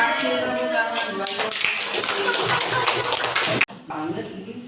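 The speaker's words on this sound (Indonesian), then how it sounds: "Kasih tepuk tangan buat" A group of children claps hands in a classroom activity, a burst of mixed clapping and taps under voices, cut off abruptly before quieter talk resumes.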